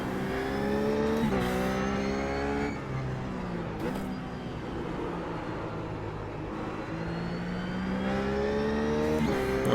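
Simulated RUF race car engine from iRacing at Zandvoort, loud and continuous, revving with rising pitch and clear drops at each gear change, the tone climbing again after every shift.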